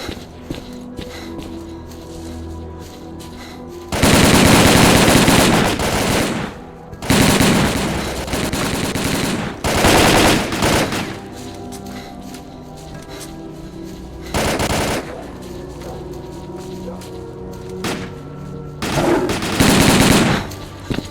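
Automatic gunfire rattles in S.T.A.L.K.E.R. Call of Pripyat, loud sustained bursts of several seconds alternating with quieter gaps of background game sound.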